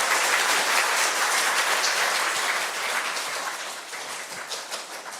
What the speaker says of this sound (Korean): 앉아 있는 김명겸 형제에게 큰 박수 부탁드립니다.